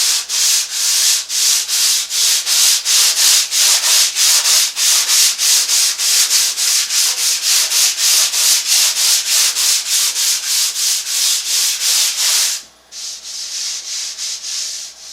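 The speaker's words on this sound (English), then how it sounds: "I've got 220 sandpaper on my little sanding block." Hand sanding on a Victorian wooden end table with 220-grit sandpaper on a small sanding block, steady rhythmic back-and-forth strokes, close and loud, briefly pausing near the end before resuming.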